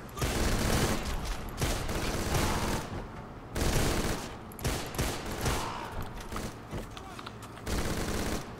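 Dense bursts of automatic gunfire from the game Deadfall Adventures come loud and close, in sustained volleys broken by brief pauses, with some speech mixed into the din.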